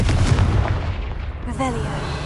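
A Confringo blasting spell explodes in the Hogwarts Legacy video game, a loud booming burst up front followed by a rumbling tail, with a brief voice-like tone rising near the end.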